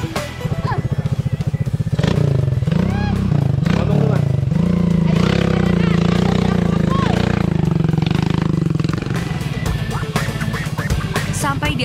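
A mountain trail motorcycle carrying a passenger labors along rough ground, its engine a loud, steady drone close by, with clattering and scraping under people talking.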